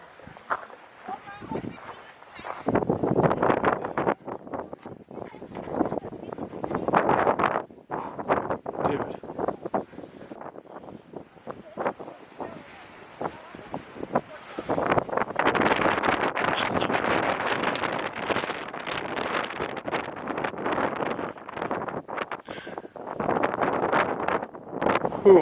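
Strong wind sweeps across a viewpoint on Mount Vesuvius, buffeting the microphone with loud, rough gusts that swell and ease in bursts through the whole stretch.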